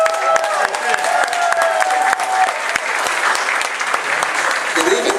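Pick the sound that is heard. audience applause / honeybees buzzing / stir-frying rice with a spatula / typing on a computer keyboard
audience applause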